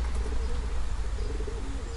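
Racing pigeons coo softly in low, throaty tones over a steady outdoor rumble, with faint wing sounds nearby as they return from a training flight.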